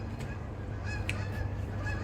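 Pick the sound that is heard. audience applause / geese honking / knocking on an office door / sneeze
geese honking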